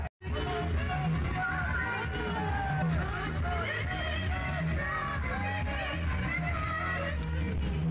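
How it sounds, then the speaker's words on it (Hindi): A dense Holi festival crowd, with constant loud babble, shouts and whoops close around, and voices rising and falling throughout. "होली में बहुत भीड़ होती है, मैं भीड़ में क्या जा रहा हूँ"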